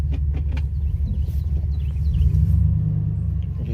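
A 2006 Chevrolet Impala SS V8 pulls away on a street, its deep low rumble steady and fairly loud throughout, swelling slightly as it accelerates near the end.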